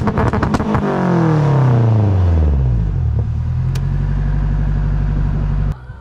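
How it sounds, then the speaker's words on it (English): Turbocharged Honda car with a new exhaust setup runs two-step launch control, its engine revving hard and loud with rapid popping bursts, then holding a steady, rumbling high idle before cutting off abruptly near the end. "let me show you guys this two-step. This thing sounds so sick."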